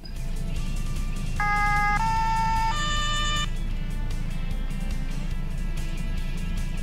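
A police car siren in Autobahn Polizei Simulator 2 sounds a few short two-tone wails for about two seconds, loud over steady road and engine rumble that continues afterward.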